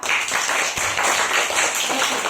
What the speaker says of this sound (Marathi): दोघांसाठी एकदा टाळ्या वाजवा